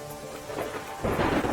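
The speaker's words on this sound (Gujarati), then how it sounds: "દ્વારકા જિલ્લામાં ભારે વરસાદ, કલ્યાણપુરમાં અવિરત વરસાદથી ગામને જોડતા માર્ગ પર ફરી વળ્યા પાણી।" Heavy monsoon rain pours steadily over Dwarka district, with a deep rumble of thunder swelling loudly in the second half over the dense hiss of the downpour; no voices.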